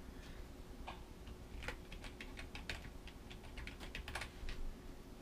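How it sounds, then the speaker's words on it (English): A Wi-Fi password being typed on a computer keyboard: light, irregular key clicks in short bursts, fairly close but quiet, over a low steady hum with no talking. "Typing in my password."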